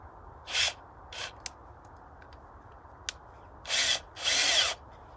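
Cordless drill driving screws into a wooden post for a pallet raspberry trellis, several short whirring bursts separated by pauses, the last two longer, close and fairly loud outdoors.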